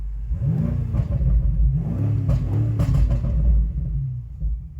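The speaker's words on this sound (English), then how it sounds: "the vehicle's started. Let's give it a rev, let's put it in Sport Plus." A BMW M5 engine revs just after starting, set to Sport Plus, with deep rumbling rises and falls in pitch over a loud, close idle, heard alone without talk.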